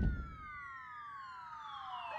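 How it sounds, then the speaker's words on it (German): Emergency sirens wail in the SimCity city-builder game, several rising and falling tones overlapping, steady and fairly loud, with no talking. "es scheint irgendwo wieder zu brennen, weil zumindest sind hier Sirenen zu hören"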